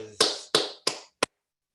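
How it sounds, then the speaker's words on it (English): Clapping at a Toastmasters meeting: four sharp, close claps spaced about a third of a second apart, each ringing out briefly before the next, ending in a short final clap and then silence. "give a round of applause to Michelle"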